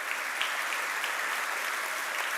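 A church congregation applauds steadily and loudly throughout, a dense wash of clapping with no break.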